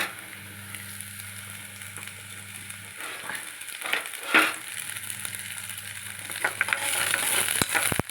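Green chillies sizzle and crackle in hot oil in a pan while cooking saag, a steady close frying hiss with a few louder stirring clatters midway and the sizzle building brighter toward the end.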